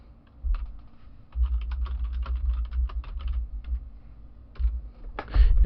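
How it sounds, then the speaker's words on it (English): Typing on a computer keyboard, close and clear, irregular runs of quick key clicks with short pauses between bursts, no one talking. "I just need to type something."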